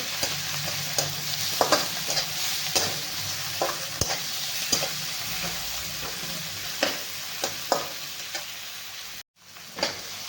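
Chopped tomato sautéing with salt for a whole masoor usal, a steady close sizzle broken by repeated scraping clicks of a spoon stirring in the pan, with a brief dropout near the end.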